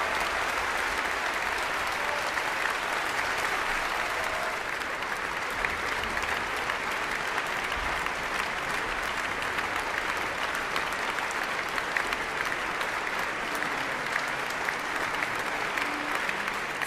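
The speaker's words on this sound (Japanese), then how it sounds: "割れんばかりの拍手、それは音楽家への最高の賞賛です。" A concert hall audience claps for a pianist in sustained, thunderous applause that holds at an even level throughout, dense and unbroken, with no voices standing out.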